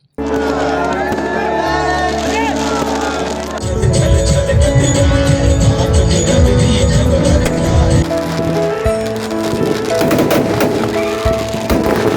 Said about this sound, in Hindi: इस दौरान जमकर आतिशबाजी हुई।